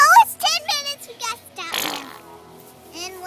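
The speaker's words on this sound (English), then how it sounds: "this is a fake fart. It's from TV." A fake fart sound effect from TV, heard as a loud raspy burst near the start and again around the middle, with a voice and other squeaky tones around it.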